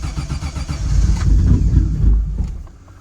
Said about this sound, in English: Starting up and running a little rough.